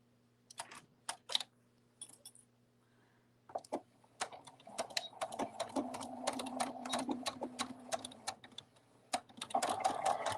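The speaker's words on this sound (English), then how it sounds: "And now I'm just sewing my dart, which was right up here, T to T." A home sewing machine stitches a dart on a cuddle bunny toy, first in short separate bursts, then settling into a longer, denser run of rapid needle strokes close by.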